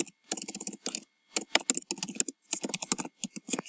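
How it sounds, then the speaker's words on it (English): Fingers type a question on a computer keyboard in quick, close clicking bursts separated by short pauses, crisp and alone. "For a poll, you can simply type in a question"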